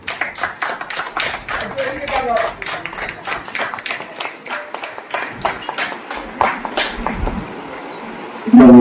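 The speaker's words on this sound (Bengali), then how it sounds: "একটু জোরে করতালি যাইব" An audience at a film trailer launch event for Pandulipi claps rapidly and unevenly, with people talking over the clapping.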